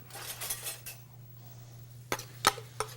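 A metal spoon clinks against a dish while relish is served, a few sharp, separate chinks near the end after softer clattering, over a low steady hum.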